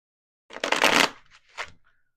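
A deck of tarot cards is riffled in one quick, close shuffle, a dense fluttering burst followed by a shorter second flick, then silence.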